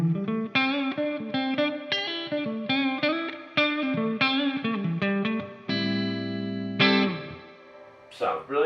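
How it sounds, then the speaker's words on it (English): Electric guitar through an amp's secret-path reverb mode, a smooth reverb tone with chorus-like shimmer, playing chords and arpeggiated notes that ring out and decay, a sustained held chord near the end, then a brief pick scrape. "So now it's a completely different reverb tone."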